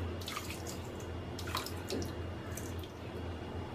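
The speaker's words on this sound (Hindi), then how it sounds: "चीनी डूब जाए इतना पानी डालेंगे" Water poured into a pan over sugar to make syrup for semolina sweets, a steady close trickle and splash with a few drips, alone and moderately quiet.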